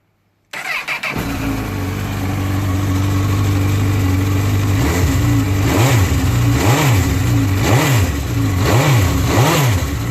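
A Honda CB1000R motorcycle engine with stock exhaust starts up close by and idles, then revs repeatedly below 5000 rpm in rising and falling surges, loud and rough with no voices.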